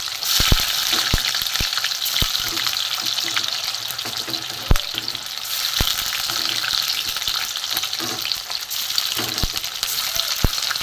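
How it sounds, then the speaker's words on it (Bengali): Paneer pieces frying in hot oil for Kashmiri paneer, with a continuous loud sizzle broken by frequent sharp pops and crackles of spattering oil and water, close by. "জল আছে তো বন্ধুরা, জলে ছিটাচ্ছে, তেলটা ছিটাচ্ছে।"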